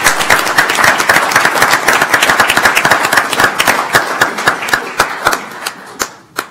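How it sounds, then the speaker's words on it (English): A small group claps at an El Paso County Commissioners Court meeting, sharp distinct claps at first that thin out into a few scattered last claps, with no talking heard. "Get a round of applause, please, for everybody."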